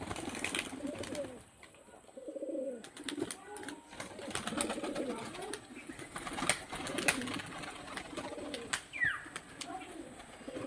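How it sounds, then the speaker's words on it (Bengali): A male tumbler pigeon gives repeated low, throaty coos close by, with scattered sharp clicks and flutters between the calls. "এবার পায়রাটার স্ট্যান্ডিং কোয়ালিটি দেখবো এবং পায়রাটার বাজিও দেখাবো"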